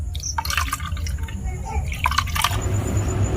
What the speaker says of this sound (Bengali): এবার আমি এইভাবে ছানাটাকে ছেঁকে নেব।